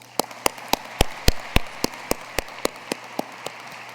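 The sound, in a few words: applause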